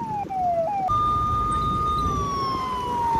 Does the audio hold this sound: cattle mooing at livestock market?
no